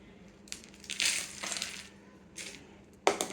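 Half a cup of cardamom pods poured out for a garam masala: a few distinct bursts of dry, rattling pattering, like small hard pods tumbling onto a surface, close and moderately soft against a quiet background.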